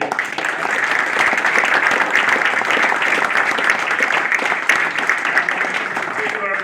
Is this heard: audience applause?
yes